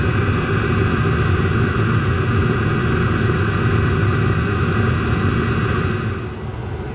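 A diesel heater runs steadily with a continuous low, broadband rumble and hum, loud and close, holding constant before easing off slightly near the end; it is smoky from the exhaust and has a history of trouble.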